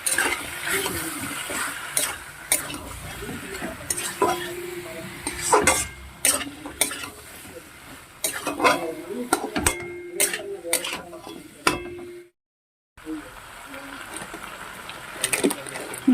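Garlic frying in oil comes through as a soft sizzle under repeated sharp clinks and scrapes of a spoon against the pan, with someone talking over much of it and a brief silent gap near the end.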